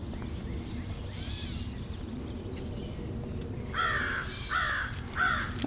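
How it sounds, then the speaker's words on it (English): Crows caw outdoors during yard and tree work, a single call early on followed by a rapid series of several harsh caws near the end, heard over a steady low background rumble. "the crows keep me company when I"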